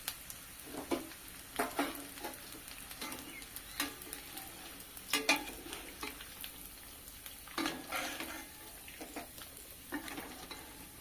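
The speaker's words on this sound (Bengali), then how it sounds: "এগুলো হালকা করে ভেজে তুলে নিতে হবে।" Semolina sweets fry lightly in oil, a soft steady sizzle broken by occasional stirring scrapes and clinks from the pan, close and fairly quiet with no talking.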